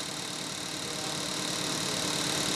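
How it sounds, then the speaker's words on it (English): An engine adapted by students to run on fuel made from waste wood runs steadily with a dense, even mechanical drone and faint high whine, loud and close throughout with no voices. "Some mechanical engineering students have adapted an engine to run on the fuel the chemistry students developed from waste wood."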